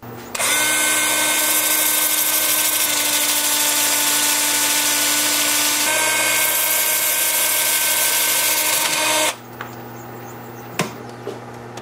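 A steady high-pitched motorized whine with abrasive hiss as the bottom of a live edge paper birch dish is sanded on a lathe, running about nine seconds, then cutting off, leaving a few faint knocks.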